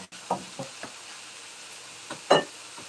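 Egg and eggplant frying in a pan at home, quiet sizzling with a few sharp clinks and knocks of a utensil against the pan, one louder scrape near the end.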